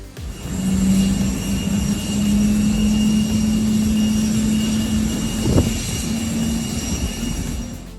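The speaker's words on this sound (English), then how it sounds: "This is one of the coolest videos I've ever taken, very close up with this 747-400 freighter." China Airlines Cargo Boeing 747-400 freighter at Chicago O'Hare, a loud steady jet engine roar with a sustained whine, heard very close up and holding constant throughout with a brief sharper burst near the end.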